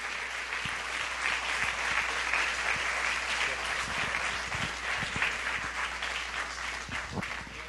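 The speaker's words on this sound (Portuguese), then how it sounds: "Vamos aplaudir o Senhor Jesus bem forte" A church congregation applauds during a 47th-anniversary service at an evangelical church, a dense, steady wash of clapping that carries on for the full stretch, fairly distant and even, with no voices standing out.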